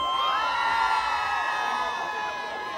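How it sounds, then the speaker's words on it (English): Women scream and cheer at a live Garifuna radio station event, a dense crowd roar of high-pitched shrieks and whoops, loud and sustained throughout. "All the single ladies scream out."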